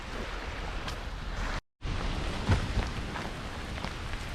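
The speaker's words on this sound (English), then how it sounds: "being that it's raining like hell today" Heavy rain falling outdoors near Nooksack Falls in Washington, a steady dense hiss with rushing water underneath, briefly cut out for a moment before resuming.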